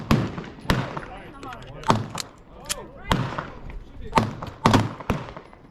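A Luger toggle-action pistol fires 115 grain MagTech ammunition in a string of sharp, loud, close shots at an irregular pace, with a voice talking between some of them.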